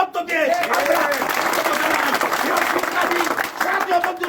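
Crowd applause and cheering for Zakir Khan at a late-night street rally in Narayanganj, a dense continuous roar of clapping with voices mixed in throughout.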